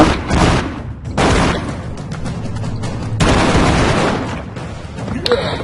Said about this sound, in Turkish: Bakın şöyle şunlar patlıyor.